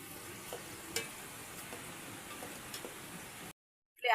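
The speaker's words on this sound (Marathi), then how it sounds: "हा तेलात परतून घेऊयात तेल चांगलं तापलं आहे परतून घेऊयात" A ground masala of onion, coconut, coriander, ginger and garlic fries in hot oil, giving a steady close sizzle with faint stirring ticks. It cuts to silence near the end, then a brief loud burst follows.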